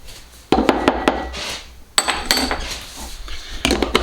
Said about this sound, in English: I'm going to mix it up so it all comes unstuck, so it actually blends